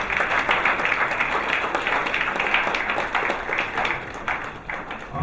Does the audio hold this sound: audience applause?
yes